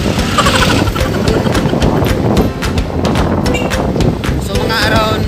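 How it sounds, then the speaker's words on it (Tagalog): Motorcycle engine humming steadily while riding toward a mall in Valencia City, with buffeting wind noise over the microphone and people talking close over the ride. "Hirap pala magsakay ng motor, no?"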